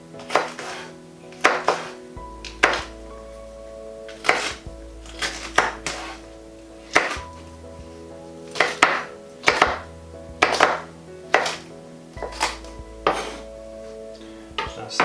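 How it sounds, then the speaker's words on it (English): A knife chops red pepper on a board in quick bursts of sharp, close taps, with brief pauses between runs and a low hum underneath. "the same with the red pepper. Very quickly just chop it."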